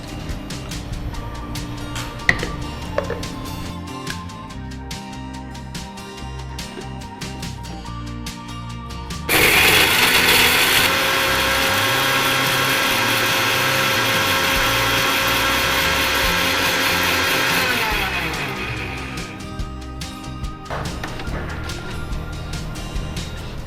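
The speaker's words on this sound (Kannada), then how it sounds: "ಇವಾಗ ಇದನ್ನು ನಾವು ಮಿಕ್ಸಿ ಜಾರ್ಗೆ ಹಾಕೋಬೇಕು" A kitchen mixer grinder powders spices together with tamarind in its jar for chicken sukka, running loud and steady for about eight seconds mid-clip between quieter kitchen handling sounds.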